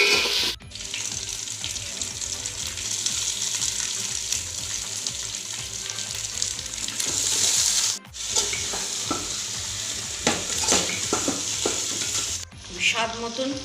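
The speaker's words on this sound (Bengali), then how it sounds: "পেঁয়াজটা এখন লাল করে ভেজে নেব।" Onions frying in mustard oil, a continuous close sizzle with stirring scrapes and clatters, briefly interrupted twice before the crackling hiss carries on.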